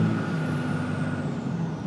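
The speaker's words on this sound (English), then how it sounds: "Wastegate." A 2002 Ram 2500 diesel truck engine rumbles steadily with a high whistling hiss from the turbo wastegate releasing above the drone, continuous and fairly close, no voices.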